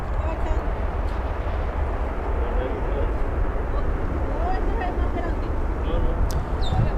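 An Avianca Cargo heavy aircraft departs Miami International, a broad, steady jet roar filling the scene from a distance, with a person talking over it.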